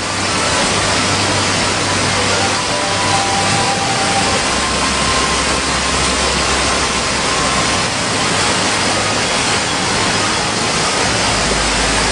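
Waterfall at Mount Kumgang, the tallest falls on the mountain, pouring between green peaks into a valley: a loud, steady, unbroken roar of rushing water from start to finish.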